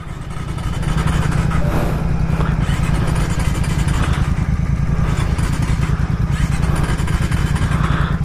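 A Royal Enfield Interceptor 650 motorcycle with a bad relay struggles as someone tries to start it, giving a loud, steady, low engine rumble with clattering mechanical noise throughout, no talk.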